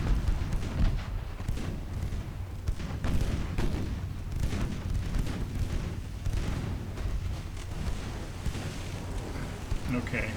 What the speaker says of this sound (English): Okay, there's some incoming fire.